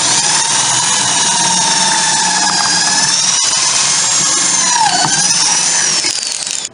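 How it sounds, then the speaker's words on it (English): A power drill bores pocket holes into wood through a clamped pocket-hole jig while building a small dresser, a loud, steady high-pitched whine that runs almost unbroken for several seconds, dipping briefly in pitch near the end before cutting off. "Then I drill the pocket holes."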